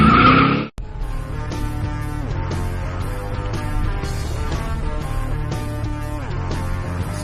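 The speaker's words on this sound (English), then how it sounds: "Got some nice drifting going on." A car drifts with its tires squealing in a steady, loud, sustained screech over engine noise, captured from a dashcam, following a brief burst of other noise at the start.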